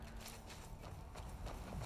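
Hooves clip-clop steadily from a horse in Skyrim, a quick, even walking rhythm close by, set over a constant low game ambience with no talking.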